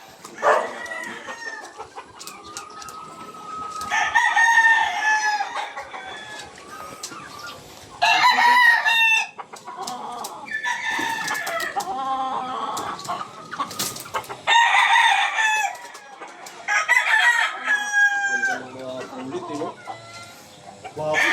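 Spangler breeding roosters in a breeding area crow in repeated loud bursts among steady clucking, with a voice talking between the calls.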